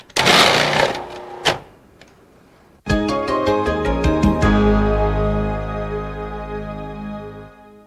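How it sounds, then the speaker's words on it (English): A Cuisinart food processor slices cucumber in loud bursts of pulse control, first a short whirring pulse, then a longer buzzing run that gradually winds down. "Use the small pusher to push it through and the pulse control and slice."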